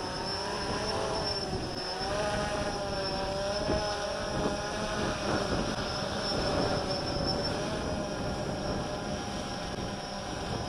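An XK Detect X-380 drone takes off and hovers, giving a steady, continuous propeller whine and hum at moderate level without pauses.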